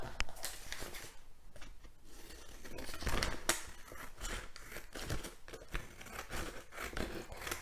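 Scissors cut out a paper wall-pattern shape in a series of close, irregular snips and papery rustles, some sharp and crisp, with brief pauses between them.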